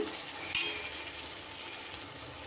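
Kashmiri chili powder goes into hot oil for mutton curry, giving a close, steady sizzle with a brief sharp crackle as it lands and one small clink later.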